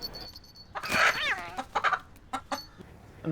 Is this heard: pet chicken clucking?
yes